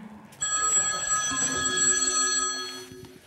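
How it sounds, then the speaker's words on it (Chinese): A telephone bell rings close by in a single sustained burst of bright metallic trilling lasting a couple of seconds before fading, with no talking over it. "接呀电话"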